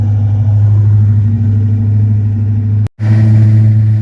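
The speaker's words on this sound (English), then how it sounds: "This is on the fast idle cam versus regular idle." A Foxbody Mustang with newly welded V-band exhaust clamps idles on the fast idle cam, a loud, steady low rumble with an even throb, close by, briefly cut off near the end before resuming.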